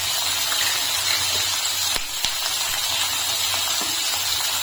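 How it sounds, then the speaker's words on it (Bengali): Chopped capsicum hits a hot pan of onion and garlic, giving a steady, loud sizzling hiss throughout, with a couple of brief clicks near the middle. "এখন আমি এর ভিতরে দিয়ে দিচ্ছি ক্যাপসিকাম কুচি"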